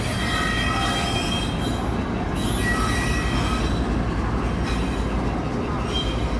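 A diesel passenger train on the Guwahati–Dimapur line brakes suddenly, its wheels squealing loudly with sustained high metallic screeches over a heavy, constant rolling rumble from up close.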